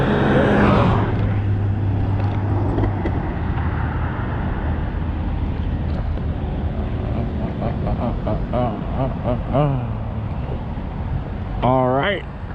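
A 1500-watt DIY e-bike built on a Leaf motor kit rides at speed at night. Constant loud wind rush runs throughout, and rising, wavering motor whines appear toward the end.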